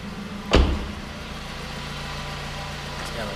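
A Suzuki SX4 with a 2-liter four-cylinder engine and just under 43,000 miles starts with a thump, then settles into a steady, low, close idle hum.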